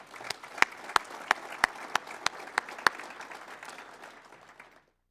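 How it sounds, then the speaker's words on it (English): Convention delegates applaud during a presidential address, a broad wash of crowd clapping punctuated by about ten sharp, evenly spaced claps close to the microphone, fading out toward the end before cutting to silence. "I think everybody should join me in a round of applause for them."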